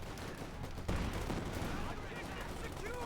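Machine gun fire rattles in the Company of Heroes 2 strategy game as dense, continuous bursts within a busy battlefield wash, with muffled explosions.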